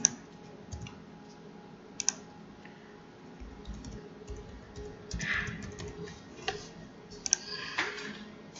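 Python code being typed on a computer keyboard, a quiet irregular patter of key clicks with a few sharper taps and short bursts, close by in a still room.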